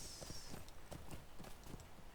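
A horse's hooves clopping in a steady, rhythmic beat in a video game set around North Bree, quiet and close, with no talking.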